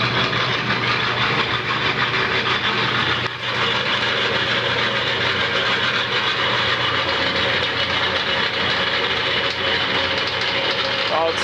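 A wood lathe runs at slow speed with a steady, loud mechanical hum and rumble that holds constant throughout, and a voice is faintly mixed in beneath it.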